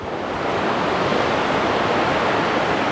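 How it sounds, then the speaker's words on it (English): Ocean surf splashes and rushes at Oceanside beach in California, a loud, steady wash of breaking waves filling the whole moment with no voices. "The surf is splashing up here."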